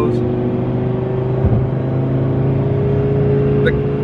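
A 900-horsepower BMW M5 engine drones steadily and loudly up close, a continuous low mechanical roar with no clear gaps.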